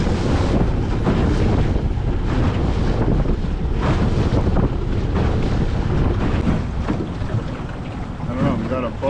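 Strong wind buffets the microphone continuously, roaring and gusting over a lake at Rene Brunelle Provincial Park, Ontario, heard from a boat, with the slap of small waves.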